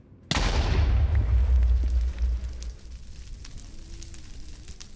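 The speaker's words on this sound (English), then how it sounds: "So that did a little bit lower explosion." A loud explosion booms out in the Minecraft video game, a sudden sharp blast that rumbles on and fades over about two seconds, followed by quieter game ambience with no talking.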